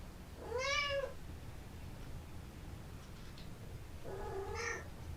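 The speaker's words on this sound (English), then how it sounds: "My cat has something to say over here." A pet cat meows twice indoors, one clear meow near the start and another about three seconds later, with quiet room tone between them and no talking.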